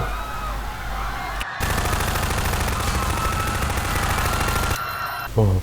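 Video game gunfire, a loud sustained burst of rapid automatic shots filling most of the span, preceded by a brief lower rumble and ending in a short sharp sound.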